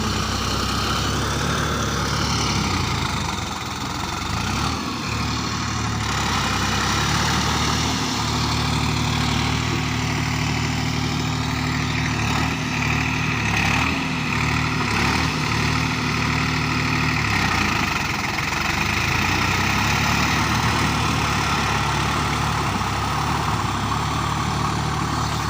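A tractor engine idles nearby in a rural setting, giving a loud, steady low rumble with a constant droning hum that runs unbroken for the whole stretch, with no talk.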